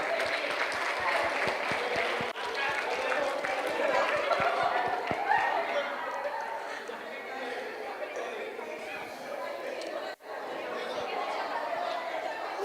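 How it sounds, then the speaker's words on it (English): A seminar crowd gives itself a round of applause, with loud, dense clapping blended with lively chatter and talking voices throughout, easing slightly toward the end. "Let us all give ourselves a big round of applause."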